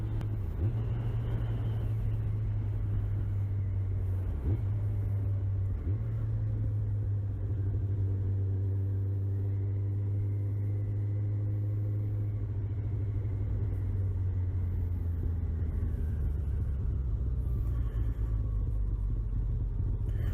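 A Suzuki GSX600 motorcycle being ridden: a steady low engine drone that holds an even pitch with slight shifts, continuous throughout and close, with wind noise.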